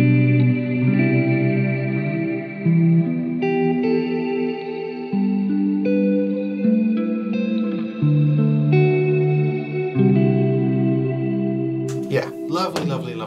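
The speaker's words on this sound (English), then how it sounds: "this is a really, really, really, really gorgeous reverb" Electric guitar chords drenched in lush reverb from a plugin and chorus, notes ringing and overlapping in a wide wash, ending with a brief noisy flourish.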